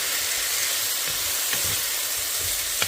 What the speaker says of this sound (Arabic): ورح نقلي البصل مع الدجاج